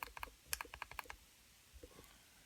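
Quick run of sharp plastic clicks from the buttons of an Asmodus Minikin 120W vape mod, about a dozen close, crisp presses in a fast burst, then a couple of softer clicks in a quiet room.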